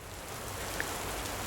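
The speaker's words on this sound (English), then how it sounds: "Just then, it began to rain." Steady rain falling outdoors, a dense, even hiss of drops on surfaces that holds constant throughout, with no voices.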